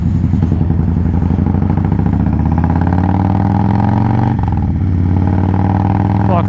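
Motorcycle engine with a Vance and Hines Fuelpak 3 throttle adjustment rumbles steadily and loudly while riding, with subtle throttle changes shifting its pitch slightly and a brief dip midway.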